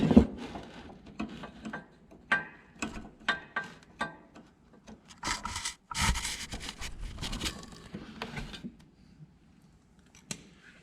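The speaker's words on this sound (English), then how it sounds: "So let's get that snap ring out," Snap ring pliers work an external snap ring off a Can-Am Renegade ATV wheel bearing assembly, giving close, irregular metallic clicks and snaps, with a few denser scraping bursts near the middle and no talking.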